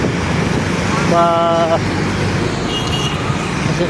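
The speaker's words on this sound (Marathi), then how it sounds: "भरपूर वाहनाची गर्दी" Constant rumble of heavy road traffic on Uruli Kanchan Ashram Road, with engines droning close by and a brief horn toot, a voice faintly under the noise.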